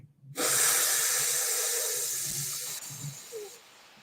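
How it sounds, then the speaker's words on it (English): A long, deep breath drawn in through the nose during a guided meditation, heard as a steady, fairly loud airy hiss lasting about three seconds before it fades. Faint low background hum underneath, with no talking. "take a nice deep inhale"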